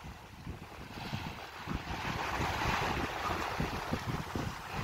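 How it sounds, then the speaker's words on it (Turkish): A small speedboat runs flat out on the Black Sea, probably heading out after bonito. Its engine and hull give a steady, loud rush of wind and spray that holds for the whole stretch, with no talking. "surat teknesi geliyor arkadaşlar. Galiba aşağı palamuta gidiyor olabilir bu. Görüldüğü üzere adam basa basa gidiyor"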